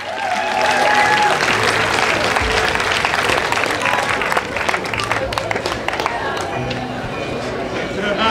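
A crowd applauds at an outdoor costume parade, with steady mixed clapping and some cheering and chatter, loudest early on and easing slightly toward the end.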